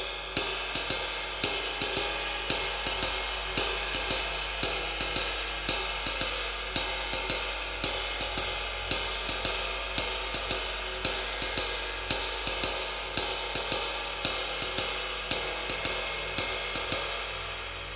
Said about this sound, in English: Adding the skip note sounds like this.